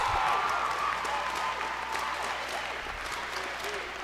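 A crowd at the USCAA national championship game applauds and cheers for the tournament MVP, a dense, steady wash of clapping that eases off slightly toward the end, with a voice faintly underneath.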